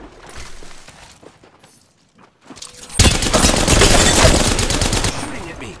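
Gunfire in the video game Apex Legends: a few scattered shots give way to a loud, sustained burst of rapid automatic fire lasting a couple of seconds.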